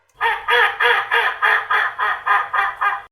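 A cartoonish duck quack sound effect repeats about nine times in a steady, evenly spaced rhythm, loud, close and nasal, with nothing else behind it.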